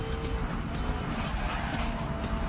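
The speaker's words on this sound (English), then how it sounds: "That's the sound of an electric car." A steady high-pitched electric motor whine from an electric racing car in the video game GRID Legends, with tire squeal layered over a constant rumble, and no pauses.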